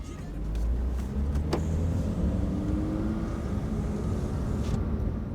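A BMW F80 M3 rolls through a residential neighborhood, its engine and road noise a steady low rumble heard from inside the cabin, with a faint brief click partway through and no talking.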